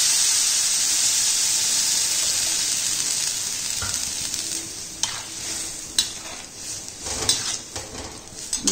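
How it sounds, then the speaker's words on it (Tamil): Pumpkin and tomato gravy with tamarind water sizzles steadily in a pan, then a utensil scrapes and clinks against the metal several times as the mixture is stirred. "நல்லா கொதிக்கட்டும்."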